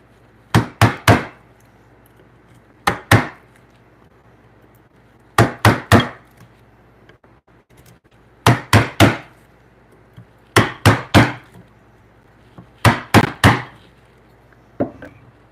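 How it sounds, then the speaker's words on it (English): A wide chisel is struck hard to chop out a wood mortise for a timber frame bunk bed. Loud, close blows come in tight groups of two to four, with short pauses between the groups. "I'm going to go after that with my wide chisel"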